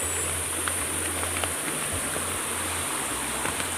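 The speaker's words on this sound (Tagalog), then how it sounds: "So naririnig niyo yung lagaslas ng tubig na napakalinaw, napakalamig, sariwang-sariwa." Clear, cold spring water flows and gurgles at the Mata water spring in Minalabac, a soft steady wash of moderate loudness with faint insect-like hiss above.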